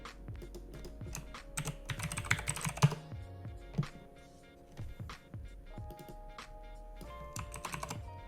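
Quiet, steady typing on a Keychron computer keyboard, with a rapid irregular run of close key clicks and occasional louder strokes throughout.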